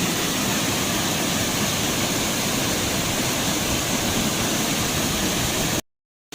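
Powerful rushing water from a waterfall pours in a loud, continuous broadband roar close by, cutting abruptly to silence just before the end.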